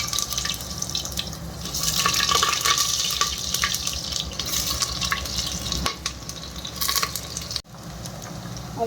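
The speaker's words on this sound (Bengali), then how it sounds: "তেলটা দিয়ে এখন এই আলুগুলো একটু ভেজে নেব।" Potatoes sizzle and crackle in hot oil inside a pressure cooker, a dense, continuous frying hiss with occasional stirring clicks and scrapes, close and steady throughout.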